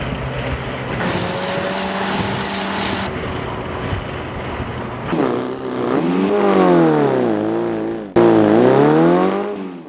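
A car engine drives through heavy traffic, starting as a steady hum and then rising into loud, repeated revving swells close by, with no talk.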